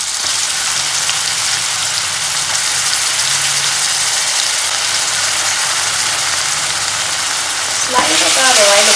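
Dried chilies and onion fry in a pan, a loud continuous hiss and sizzle throughout, swelling briefly near the end as the pan is stirred.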